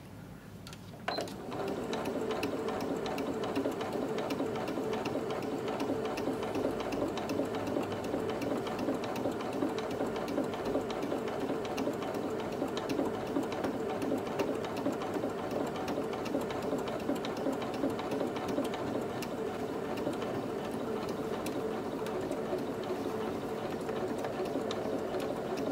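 A sewing machine stitches bias binding onto a hanger protector, starting after a brief pause and then running continuously with a steady, rapid mechanical chatter, close up and moderately loud, with no talking.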